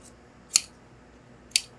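Tailor's scissors snip through trouser fabric twice, each a crisp, close, sharp cut about a second apart, separated by near silence.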